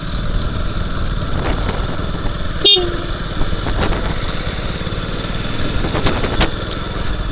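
A KTM RC 200 motorcycle engine drones steadily from a riding position, wind noise mixed in, with a brief horn-like blip near the middle.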